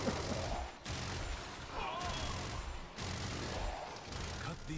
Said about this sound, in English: Like I have a literal rotary autocannon at this point.